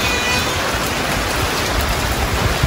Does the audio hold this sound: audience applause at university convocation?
no